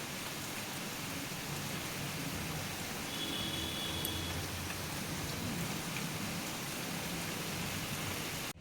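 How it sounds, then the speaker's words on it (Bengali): Steady morning rain falls in a constant even hiss that continues without a break, moderately close, with no voices. "আজকেও আবার সকালবেলা ভালোই বৃষ্টি হচ্ছে।"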